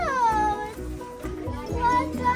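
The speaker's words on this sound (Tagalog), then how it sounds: "Ang cute. Yung pusa." A cat meows several times in a busy indoor shop, with people chatting close by throughout.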